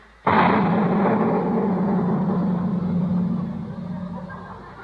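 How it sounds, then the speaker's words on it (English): A cannon loaded with a giant firecracker goes off as a sudden loud boom, and the blast rumbles on and slowly fades over several seconds. "What in the world did you put in that cannon? It was just sort of a giant firecracker, Miss Brooks."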